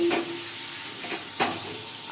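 Chicken kasha sizzles in a pan with a steady, close frying hiss, broken by a few sharper stirring scrapes, with no voices.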